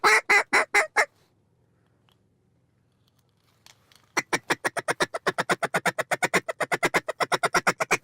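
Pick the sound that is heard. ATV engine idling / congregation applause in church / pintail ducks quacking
pintail ducks quacking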